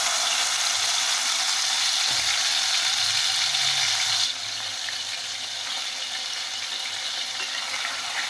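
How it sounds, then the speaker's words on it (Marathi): Ginger, garlic and onion paste hits hot oil with cumin, a steady close broadband sizzle that grows noticeably quieter partway through as the paste settles in the pan; nobody speaks. "इथं अद्रक, लसूण, कांदा त्याची पेस्ट केलेली टाकून घेऊ."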